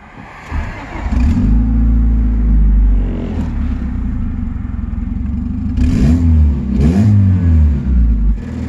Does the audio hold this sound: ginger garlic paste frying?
no